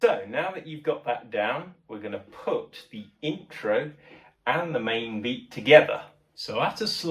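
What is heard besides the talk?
None of the usual background noises is heard.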